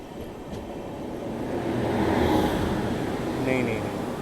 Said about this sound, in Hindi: बाकी सिया राजधानी से भी अपनी क्रॉसिंग होने वाली है